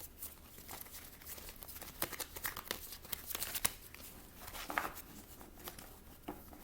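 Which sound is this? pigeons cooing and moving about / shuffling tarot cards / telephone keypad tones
shuffling tarot cards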